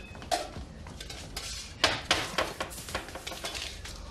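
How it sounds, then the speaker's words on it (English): Metal saucepans clatter and clank as they are stacked and put away, a run of sharp, uneven knocks and rattles with several louder bangs, close by and with no voices. "Well, put all the saucepans away."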